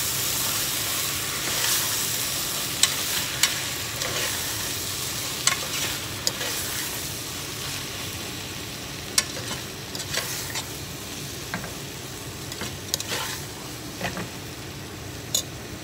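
Chopped tomatoes sizzle and fry in a pressure cooker while being stirred for an aloo matar paneer curry with soya granules; a steady close hiss runs throughout, broken by frequent sharp clicks and scrapes of the spoon against the pot.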